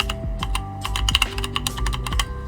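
Rapid, uneven typing on a mechanical gaming keyboard with brown switches (E-Yooso K-620), close and loud, deep keystrokes clattering in bursts with brief pauses between them.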